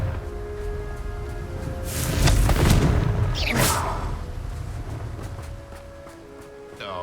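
A fiery Confringo spell explosion in Hogwarts Legacy bursts as a single loud, broad whoosh-boom that swells and then trails off into a softer rumbling tail.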